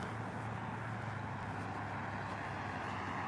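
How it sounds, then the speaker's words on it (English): A car drives past close by on a city street outside an apartment, a steady broadband roadway rumble with faint traffic noise lasting throughout. "The last red car is turning as this drives by me."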